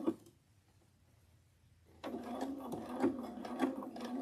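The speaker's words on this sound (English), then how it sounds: "And then I'm just going to sew a circle here." A sewing machine stitches fabric in a circle, starting after a quiet moment with a close, steady whirring run and faint rhythmic ticking.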